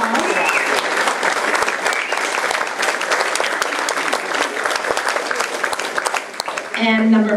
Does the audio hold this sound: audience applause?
yes